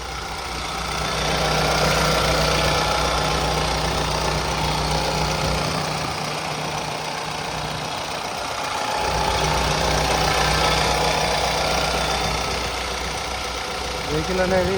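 A 2019–20 Mahindra XUV300 W8(O) automatic diesel idles with a steady low clatter and hum, close and continuous, while someone speaks over it.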